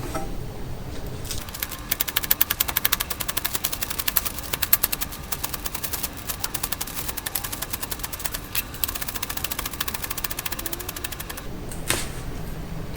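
A knife chops tough spring onion greens into thin rounds for pancakes, a fast, steady rattle of close taps on a cutting board that keeps going with only brief breaks.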